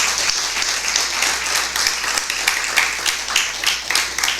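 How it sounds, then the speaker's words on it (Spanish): A church congregation gives steady, sustained applause to the Lord during a sermon; many hands clap at once in a continuous, bright wash that holds at an even level from start to finish. "Denle un fuerte aplauso al Señor."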